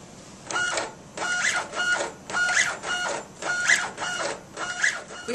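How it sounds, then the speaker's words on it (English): A Zebra RZ400 label printer runs a batch of 20 labels back to back, giving six or seven regular bursts of whirring feed and print noise separated by short pauses, loud and close with no talk. "we're sending data down to print 20 labels consecutively."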